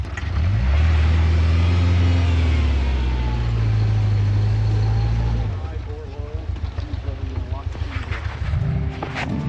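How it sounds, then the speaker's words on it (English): A 4x4 truck roars through a burnout in snow, its engine revving hard and loud for several seconds before easing off to a lower, choppier idle, with voices talking over it. "Burnouts."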